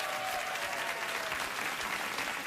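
Studio audience applause on a late-night TV talk show, a dense, steady wash of clapping filling the room from start to finish.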